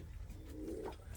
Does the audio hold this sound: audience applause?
no